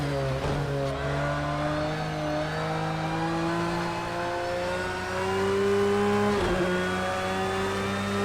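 A race car engine in the video game Project CARS 2 drones loudly and steadily, its pitch climbing through gear changes with a couple of sharp shifts, the car heard close throughout.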